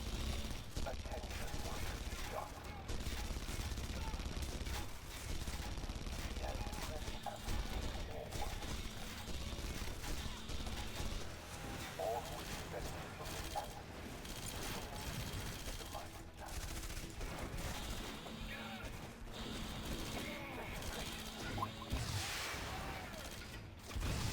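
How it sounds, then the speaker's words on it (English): Scattered gunfire from soldiers shooting miners in Red Faction Guerrilla on insane difficulty, rattling bursts mixed with creaks and crashes in a dense, busy battle. "They're shooting the miners."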